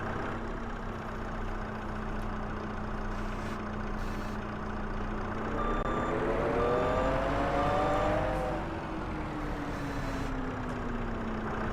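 In Farming Simulator 25, a skid steer engine drones steadily as it strains under a heavy load, its pitch climbing and then falling back while the machine labors.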